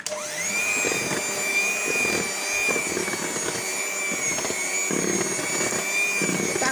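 An electric mixer whirs steadily through cake batter for a crisp dry sponge, a constant motorised whine with slight fluctuations in load.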